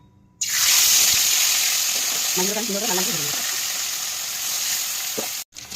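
Amudi fish sizzling loudly in hot mustard oil in a pan, a steady bright frying hiss that starts suddenly and runs throughout, with a brief voice partway through.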